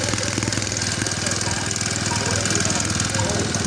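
A Super Four four-stroke automatic motorcycle engine idles steadily up close with a fast, even throbbing pulse, and a voice is heard faintly over it.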